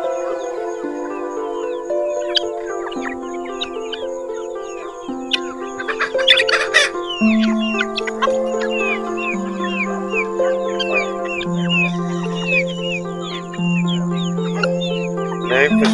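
Guinea fowl and chickens call around a farmyard, with repeated squawks, clucks and chirps close by, while people talk over much of it.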